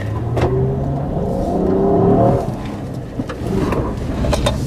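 A 2013 Honda Crosstour is driven hard around a tight autocross cone course, its engine surging and easing in rising pitch sweeps with tire and road noise, heard up close over nearly five seconds.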